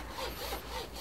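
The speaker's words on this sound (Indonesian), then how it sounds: "Kemudian saya potong dengan gergaji besi" A hacksaw rasps back and forth through PVC pipe in steady strokes, a gritty rhythmic scraping close by with no talking.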